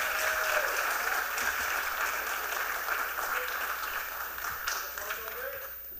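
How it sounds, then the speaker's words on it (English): Audience applause closing a panel at a youth town hall, a steady, dense clapping from a crowd that slowly eases off, with faint voices mixed in. "Clap it up, clap it up, clap it up."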